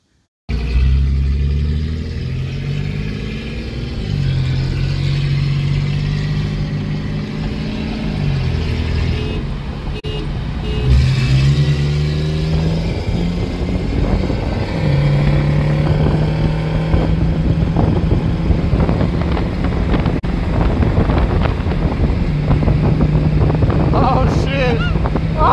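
A Chevy S10 pickup accelerating hard, its engine climbing through several gear pulls with shifts between them, loud and close against heavy wind noise, with excited voices shouting near the end.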